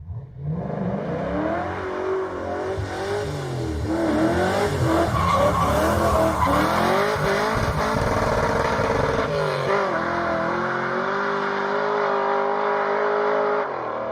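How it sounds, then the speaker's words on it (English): A Chevy all-aluminum LS V8 engine roars and revs loudly and continuously, pitch rising and falling with tires squealing along the way. "My favorite motor is Chevy's all-aluminum LS. It sounds so good."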